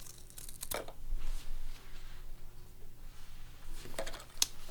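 Brief tearing and snipping sounds come from excess material being cut away from a 3D-printed Attack on Titan cosplay piece, with a few sharp crackles against a quiet background.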